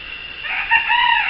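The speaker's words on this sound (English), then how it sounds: "you're going to hear a rooster going on in the background" A rooster named Jack crowing in the background, one drawn-out, rising and falling cock-a-doodle-doo, fairly clear over quiet ambience.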